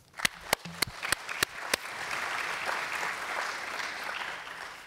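At an aviation workshop, several loud, separate claps ring out first, then merge into a steady round of audience applause for the panelists that carries on to the end.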